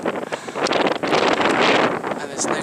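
Strong wind buffets the microphone on an exposed Dartmoor hilltop near Tavy Cleave. The roar is loud and gusty, with rumbling bursts and brief flutters that rise and fall throughout.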